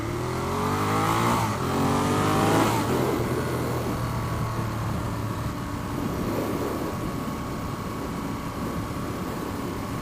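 Ducati Monster motorcycle engine while riding on bumpy roads, heard through a helmet as a steady, loud drone with rising revs at first, then a constant engine hum under heavy wind rush.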